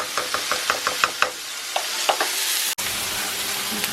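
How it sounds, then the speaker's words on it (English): Pork steak with water stirred in a hot pan: a run of quick spoon knocks and scrapes over a constant sizzle, then a brief break and continued bubbling hiss. "I'll give this a stir"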